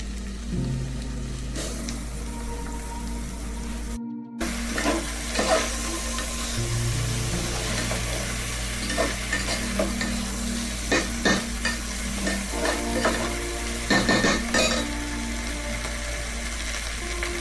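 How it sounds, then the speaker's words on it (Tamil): Seeraga samba rice tossed and stirred in a hot frying pot for coconut milk kuska, giving a steady sizzle with repeated scraping strokes close by, no voices. "இது வந்து சீரக சம்பா ரைஸ். இந்த ரைஸ் போடலாம்."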